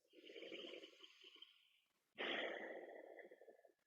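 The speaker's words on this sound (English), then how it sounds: "grabbing your Ujjayi breath in through the nose" Ujjayi yoga breathing through the nose, a slow, breathy, nasal rasp: one long inhale followed after a short pause by a louder exhale, close and steady.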